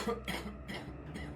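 A single person coughs in a dark house, a few rough, close bursts spaced apart and fairly quiet, heard alone without talk.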